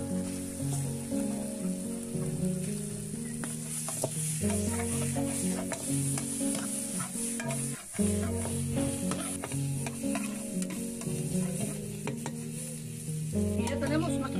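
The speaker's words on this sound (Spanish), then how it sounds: "le voy a agregar acá el chicharrón." Pork chicharrón fries and is stirred in a pan with sliced plantain, a steady close sizzle with rhythmic scraping strokes of the utensil throughout and no talk.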